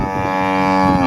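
A buffalo moos in a single loud, sustained low bellow lasting about a second, close by and with no talk over it.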